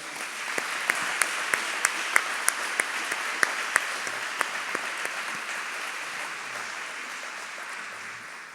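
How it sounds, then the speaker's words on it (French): An audience claps for several seconds, a dense steady patter with some sharp individual claps standing out early, then gradually fading toward the end. "nous pouvons applaudir la Vierge Marie déjà"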